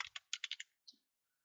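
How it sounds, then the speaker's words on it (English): Typing a command on a computer keyboard, a burst of quick close key clicks followed by a single later keystroke, alone with no talk. "we will install the SQL CLI by typing the following command"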